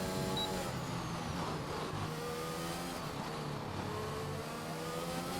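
On board a race car during a lap of a racing video game, the engine gives a continuous high, buzzing drone. The pitch sweeps slowly up and down, and the sound stays fairly quiet and even throughout.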